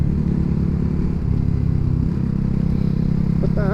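A motorcycle engine idles with a steady low rumble, running continuously and close by.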